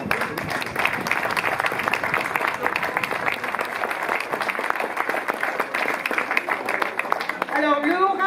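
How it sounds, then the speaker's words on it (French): Audience applause at the inauguration of the 2023 Fête au Pays du Ried in Holtzwihr, loud sustained crowd clapping throughout, with a voice emerging near the end. "Donc on peut l'applaudir."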